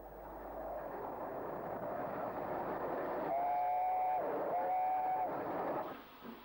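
The steam locomotive Kingfisher hauls a railtour train near Yeovil Pen Mill on a 1995 Southern steam run, with a steady rolling rumble and two long, loud whistle blasts partway through.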